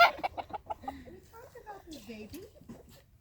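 Chickens clucking and chattering nearby at a farm animal sanctuary in Whitney, Texas, in a series of short, uneven calls, with a few higher squawks mixed in.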